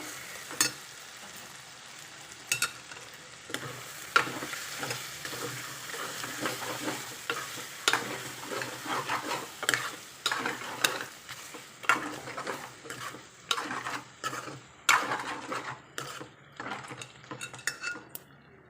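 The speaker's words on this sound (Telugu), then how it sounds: "కూర కలిపేద్దామండి ఒకసారి." A spoon scrapes and clinks against a pan while fenugreek leaf chicken curry is stirred, with a steady sizzle of frying under a run of repeated stirring strokes, close and fairly loud, with no talking.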